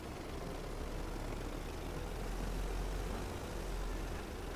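Airship engines running in the video game Worlds Adrift give a steady, low, even drone that holds without a break, with no voices over it.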